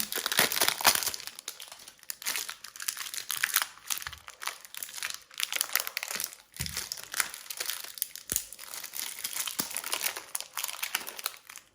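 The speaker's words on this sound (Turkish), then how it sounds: "Bir tane de şöyle geniş bir sabun keselim." A wide bar of olive oil soap, still wet, being cut: a dense, continuous crackling and crinkling texture with scattered sharper snaps, close and alone, with no talk.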